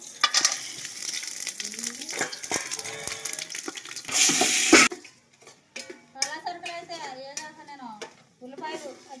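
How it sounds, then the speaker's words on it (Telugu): Spices crackle and sizzle as they hit hot oil, with a steady frying hiss and clinks of a utensil against the pan, followed by quieter stirring scrapes while someone speaks over the cooking. "నూనె అయితే కాగింది పలా సరుకులు అయితే వేసుకుంటున్నాను"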